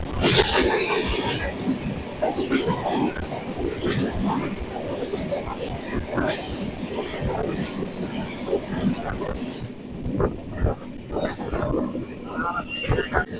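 An express train passes alongside in open farmland on an Indian rail route, a dense rumbling and clattering rush that carries on throughout, with a voice speaking over it.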